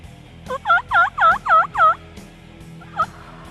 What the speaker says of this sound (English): Now it sounds like there's 2 birds.